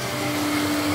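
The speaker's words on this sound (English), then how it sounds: "I'm gonna just put the extractor on." A dust extractor runs in a woodworking shop, a loud steady whooshing drone with a constant motor hum, close and continuous for the whole second.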